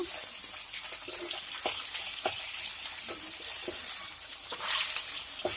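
Green chillies and onions, with mustard and cumin seeds, frying in a pan for brinjal curry give a steady close sizzle, with light crackles and scraping stirs throughout.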